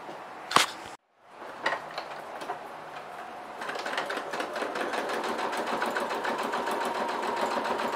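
A sewing machine stitches a hem seam through fabric and mesh 5 mm from the edge with a lengthened 3.5 stitch. A couple of handling clicks and a brief pause come first, then a steady, fast mechanical whir with rapid rhythmic needle pulses carries on to the end.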